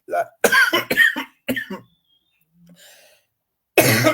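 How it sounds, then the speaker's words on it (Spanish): Harsh coughing fit from a preacher during a sermon on the Gospel of John, with a run of loud, close coughs and a throat-clearing rasp, then a brief pause and a soft breath before another loud cough. "Ataque de tos"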